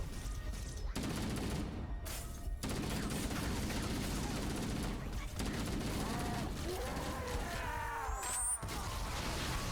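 Grenade blasts and gunfire from the video game Halo: Combat Evolved, dense bursts and crashing booms in a noisy firefight with electronic warbles near the end, a voice talking over the action.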